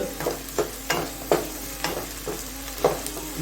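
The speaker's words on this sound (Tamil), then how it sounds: "இப்போ இதை நல்லா டீப்பாக இதை வதக்கிக்க போகிறேன்." Onions sautéing in hot oil for goat intestine gravy, with a soft continuous sizzle broken by regular scraping stirs of a spoon against the pan about every half second, close and alone.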